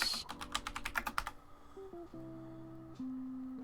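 Quick run of key presses on a computer keyboard, about a dozen crisp clicks in the first second or so, then giving way to quiet electronic tones with no talking.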